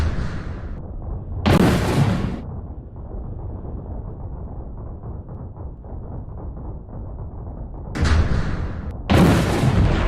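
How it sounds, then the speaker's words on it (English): A firework-like rocket burst emote in the online video game Tidal Nexus Online gives two loud, explosive whooshing bursts, one early and a double one near the end, over a steady low rumbling background. "Looks like a big old rocket burst or something, like a firework."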